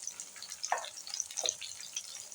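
Chutney ingredients frying gently in oil on a low flame, a soft steady crackle with a couple of brief louder spits, close and with no talking.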